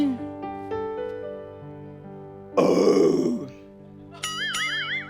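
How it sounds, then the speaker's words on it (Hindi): A loud, rough burp after eating lunch bursts out over a sustained musical backdrop. It is followed by a short rising vocal flourish. "ये मैंने जो लंच खाया उसकी डकारती"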